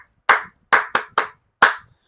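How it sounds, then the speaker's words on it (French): Five sharp, close, loud claps from a small number of hands ring out in an uneven rhythm with short gaps of silence between them and no talking. "applaudissez pour nous-mêmes"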